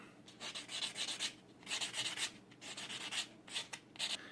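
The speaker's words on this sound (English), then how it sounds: "finish this thing up with a nail file sanding block" Rhythmic scratchy rubbing strokes of a nail file sanding block on a coin ring, in short back-and-forth bursts with brief pauses, close and fairly quiet.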